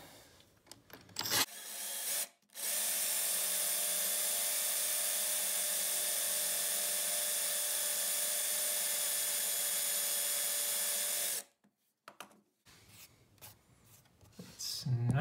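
A power drill bores a hole through a bathtub step toward the tile beneath, its bit heating and smoking. A long, loud, steady whine runs about nine seconds, framed by brief handling noises before and after.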